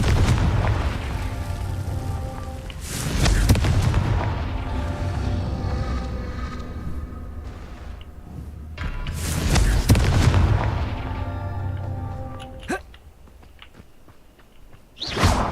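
Confringo blasting spell explosions in the Hogwarts video game, two big booming blasts several seconds apart with rumbling tails and crackling debris, followed by quieter ambience and a final sharp burst.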